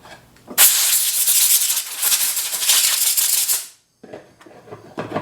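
Cleaner sprays in hissing bursts onto a Hitachi/Metabo air nailer being repaired for misfires, its O-rings removed. A loud, close, sustained hiss runs about three seconds, stops, then a shorter softer spray follows.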